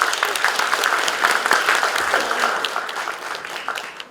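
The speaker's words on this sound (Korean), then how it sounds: "격려의 박수 부탁드립니다" An audience at a district mayoral candidates' policy debate gives steady, encouraging applause as resident panelists take their seats. Many hands clap evenly at a moderate distance throughout, with no talk over it.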